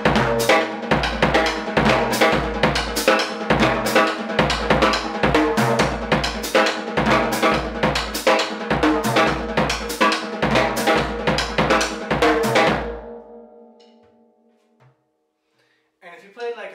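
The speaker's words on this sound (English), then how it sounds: "I'm going to play a little bit more of an advanced songo pattern," An advanced songo groove on a drum kit, with busy, syncopated hits and a cowbell-like accent over steady low drum strokes, plays loud and close for about twelve seconds before ringing out into near silence.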